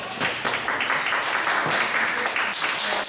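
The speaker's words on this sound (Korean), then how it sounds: "박수로 맞으시죠." An audience at a Korean church summer camp lecture applauds to welcome a Baptist pastor, giving a steady burst of clapping from many hands with a voice faintly mixed in.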